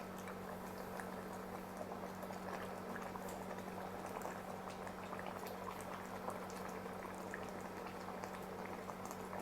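Mackerel fish curry simmering and reducing in a pot gives a soft, steady bubbling with small pops and a low hum underneath, quiet and uninterrupted.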